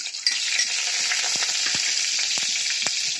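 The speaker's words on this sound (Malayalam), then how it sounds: "ഇപ്പോൾ കടുക് നല്ലതുപോലെ കടുക് പൊട്ടണം." Mustard seeds and chillies fry in hot oil, making a steady, close hiss with scattered sharp pops and crackles throughout.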